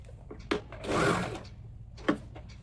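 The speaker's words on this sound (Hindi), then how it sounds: "पैड को अंदर एडजस्ट करते हुए इसको सिलाई करना है।" A sewing machine stitching a blouse with a pad adjusted inside, a short close whirring burst of stitching between sharp clicks and fabric handling, faint and alone.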